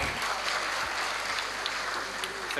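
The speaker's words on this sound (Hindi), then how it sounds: "बहुत सारी तालियां जनाब अताउल्लाह कासमी।" Audience applause greeting a guest at an album launch event, close, dense clapping that holds steady for the whole moment with light crowd murmur underneath.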